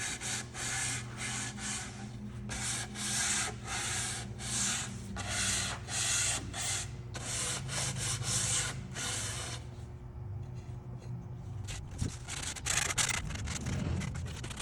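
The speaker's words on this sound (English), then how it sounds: "The last thing I'm going to do is just by hand take 150 grit sandpaper and just make sure my edges are" Barnwood face frame edges are hand sanded with 150 grit sandpaper, giving a close, steady rhythm of rasping strokes that ends with a softer scrubbing passage.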